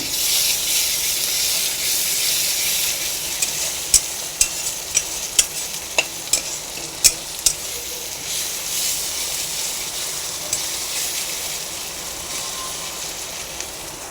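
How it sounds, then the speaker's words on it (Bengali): Ginger-garlic paste is stirred into onions frying in a pan, with a steady hiss of sizzling oil and a run of sharp, evenly spaced spoon taps against the pan in the middle. "এই যে পেঁয়াজ প্রায় হয়ে গেছে, দেখো আদা রসুনটা দিলাম।"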